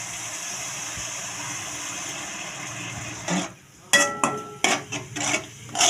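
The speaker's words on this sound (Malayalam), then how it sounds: "ശർക്കര നീര് ഒഴിച്ചു കൊടുക്കാം കേട്ടോ" Jaggery syrup poured into a pot of papaya payasam and stirred, heard as a steady hiss that gives way to a few seconds of clattering ladle scrapes and metallic clinks near the end.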